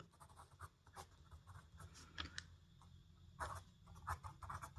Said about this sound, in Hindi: तो लिखते हैं हल।